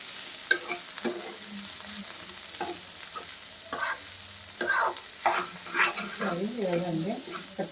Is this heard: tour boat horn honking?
no